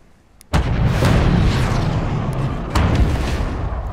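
Ship cannons firing and shells exploding in the Forts naval battle game: a sudden loud blast opens a sustained rumbling roar, and a second heavy impact hits a few seconds later.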